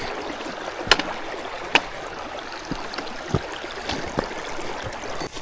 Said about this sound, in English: Crossing over this creek.